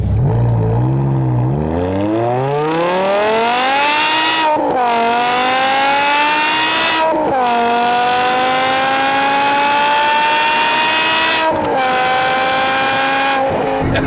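A 2008 BMW M5 E60 with its V10 engine accelerates hard, rising in a loud, high-pitched howl. Three or four quick gear shifts briefly drop the pitch before it climbs again, heard up close and alone.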